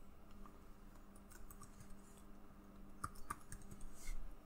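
Keystrokes on a computer keyboard while entering login details for a remote demo server, a run of quick, faint clicks and taps over a low room hum, with no voices.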